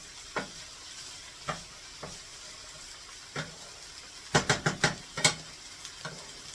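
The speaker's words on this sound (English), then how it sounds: "Now I'm going to let the potatoes cook on one side for just a few minutes, so that they can kind of get browned up" Canned potatoes and onions in a skillet give off a quiet, steady sizzle, broken by scattered scrapes and clacks of stirring that cluster into a quick burst of knocks near the end.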